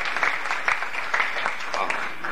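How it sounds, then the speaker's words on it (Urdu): Audience applause at a humorous Urdu poetry recital, a steady wash of clapping with a few louder bursts, close and fairly loud; a voice may be faintly mixed in underneath. "ایک بار تالیاں اور زور سے بجائیے"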